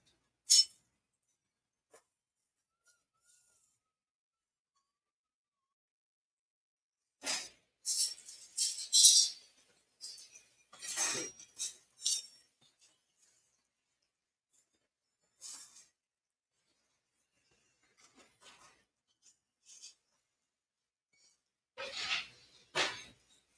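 Cutlery scrapes and clinks against a plate in several short bursts separated by quiet pauses, close by, with no talking.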